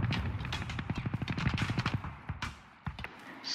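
Rapid automatic gunfire in the tactical shooter Ground Branch rattles in a dense burst of evenly spaced shots for about two seconds, followed by a few scattered single shots, heard at moderate distance.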